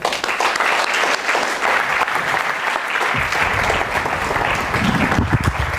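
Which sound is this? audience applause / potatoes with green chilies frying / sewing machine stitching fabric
audience applause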